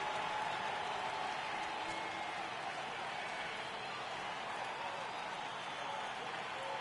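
A stadium crowd in MLB 18 The Show, a Yankees versus Astros game, sends up a faint, steady wash of cheering and applause at a full count, distant and without distinct peaks.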